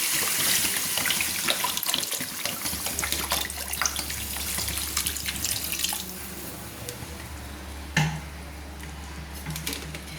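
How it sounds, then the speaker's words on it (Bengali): Water poured from a vessel into a pan of chicken curry (jhol), a steady rushing splash running the whole stretch over a low hum, with a brief louder splash near the end. "আমি চিকেনের ঝোল করার জন্য আমি প্রয়োজন মতো জল ঢেলে দিচ্ছি"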